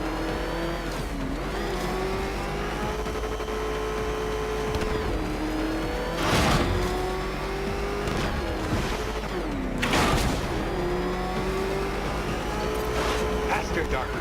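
The Batmobile in Batman Arkham Knight speeding along, its engine note rising and falling through repeated revs, with sharp bursts around the middle and late stretches, and a voice talking over the roar.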